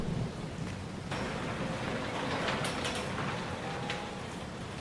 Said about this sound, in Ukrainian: Ходімо, певно, не знаю, дощ іде.